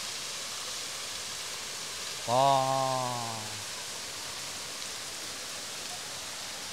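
Steady rushing water of a waterfall in the mountains of northern Laos fills the clip, with a short burst of speech partway through.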